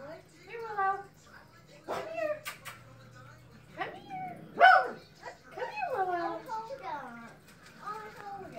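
A dog barks and whimpers at a pineapple, with short yelps and whiny cries over a steady hum, while a person talks encouragingly alongside.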